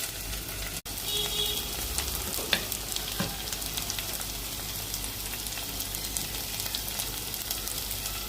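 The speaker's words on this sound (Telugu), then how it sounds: "సో ఇలా ఫ్రై అవుతుంది కదా మన చెనా పులావ్ యొక్క ప్రిపరేషన్" Spices fry in hot oil for chana pulao, giving a steady, close crackling sizzle that runs the whole time, with a few faint stirring knocks early on.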